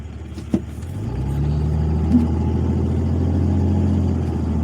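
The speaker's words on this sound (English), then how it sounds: "I know you hear the engine. That's because my truck runs on diesel." A diesel truck engine rumbles nearby after a sharp knock, settling into a loud, steady low-pitched drone that holds through the rest of the clip.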